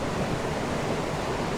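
The Aber Falls waterfall in autumn gives a steady, dense rush of falling water, loud and unbroken throughout, with no voices.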